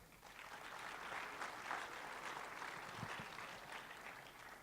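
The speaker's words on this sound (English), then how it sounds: "So please give yourselves a big round of applause" Conference audience applause at a software developer event, a faint, even wash of many hands clapping from a distance, steady throughout without individual claps standing out.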